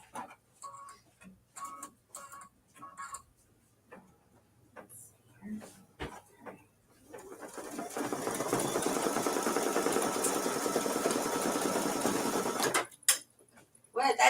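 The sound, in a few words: sewing machine stitching while shredding thread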